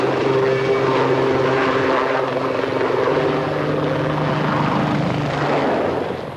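A military helicopter flies steadily overhead, its rotor chop and engine drone loud and continuous, fading slightly at the end.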